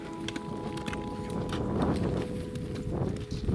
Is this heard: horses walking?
yes